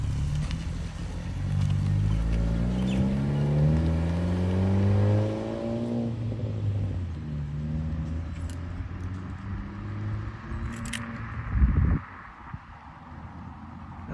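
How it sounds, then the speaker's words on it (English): Honda Civic Si fitted with a Type R FK8 mid pipe and the resonator cut off, revving through several rising and falling engine sweeps, loud and close, ending in a sharp blip before settling to idle. "But it sounds good."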